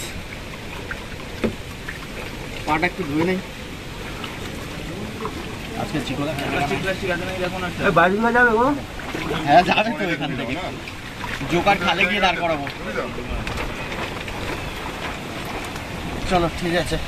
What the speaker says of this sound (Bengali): কারণ পুরো বাইরে বৃষ্টি হচ্ছে।